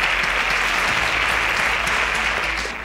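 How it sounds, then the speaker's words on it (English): Steady, dense applause from a quiz show audience cheering the contestants, loud and continuous throughout, fading slightly at the very end. "A round of applause for all of them."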